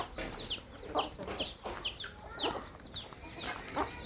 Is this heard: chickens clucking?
yes